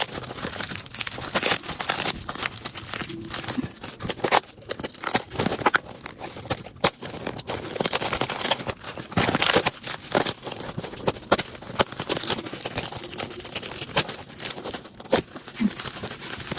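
Peeling a material off a freshly made wet-look resin corset top, a steady crinkling and tearing crackle that runs close and fairly loud for the whole stretch, with irregular bursts and brief pauses.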